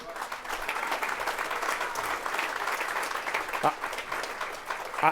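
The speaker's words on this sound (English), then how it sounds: "Go ahead, clap." An audience claps through a speech at a pro-energy jobs rally in Louisiana, a moderately loud, even wash of applause with faint voices mixed in and a couple of sharper knocks near the end.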